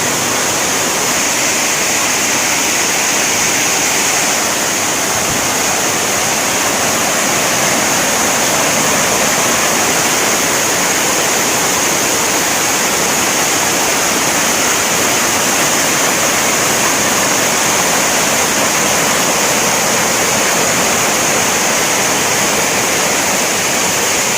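The Linhojar waterfall in West Karbi Anglong pours over rocks in a loud, unbroken roar of rushing water that stays steady and close throughout.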